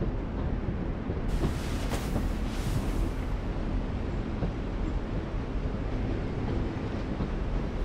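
Low train rumble in The Walking Dead: The Final Season video game, a steady, heavy rolling drone with a brief hiss swelling for a couple of seconds, no voices.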